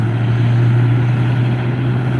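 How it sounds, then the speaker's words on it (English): McDonnell Douglas MD-11 jet at Reno airport with its number 3 engine spooling up, a loud steady low drone with a strong constant hum, close and continuous without voices. "And there goes engine number 3."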